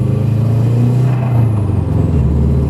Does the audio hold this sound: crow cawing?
no